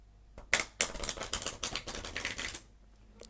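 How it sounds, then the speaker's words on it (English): A riffle shuffle of a deck of playing cards, heard close and crisp as a rapid run of flicking, fluttering card snaps lasting about two seconds, with sharp clicks at the start and a light tap at the end, no talking. "So you'll see we've done a Riffle shuffle"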